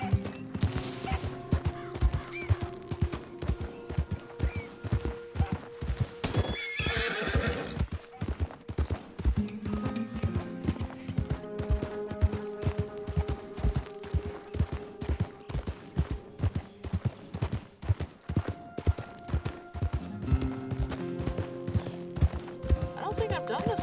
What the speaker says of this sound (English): Holy shit, this horse is fast.